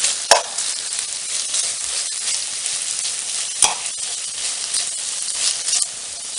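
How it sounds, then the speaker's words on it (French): Sliced onions stirred into potatoes cooking in a pan for tartiflette, a loud continuous sizzle with occasional knocks and scrapes of a utensil mixing the pan, close up. "je viens rajouter mes oignons. Voilà. Et je viens mélanger le tout."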